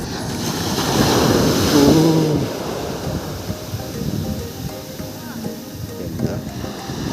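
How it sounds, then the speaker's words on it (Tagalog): Strong ocean waves crash and wash onto a beach at Morong, Bataan, a loud continuous roar with wind buffeting the microphone; a voice speaks briefly over the surf near the start. "Lakas na hampas ng alon guys."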